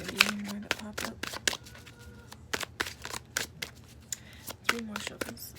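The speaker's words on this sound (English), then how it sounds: "3 more shuffles." Tarot cards shuffled by hand in a run of crisp riffling bursts, close and clear, with short pauses between the shuffles and some quiet talk in between.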